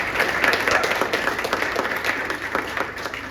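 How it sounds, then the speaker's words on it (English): An event audience gives a round of applause, many people clapping together in a lively, fluctuating burst that stays fairly loud throughout and gradually eases slightly toward the end, with no voices on top. "So give them a round of applause."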